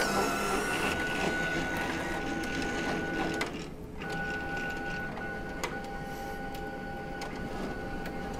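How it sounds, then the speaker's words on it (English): An Entrust Datacard CR805/CR825/CE875 card printer runs its cleaning cycle, drawing an isopropanol cleaning card through: a faint, continuous mechanical whir with a thin sustained tone, a short dip midway, then light rhythmic ticks. "The printer will now pull the isopropanol card in and run it through the length of the printer"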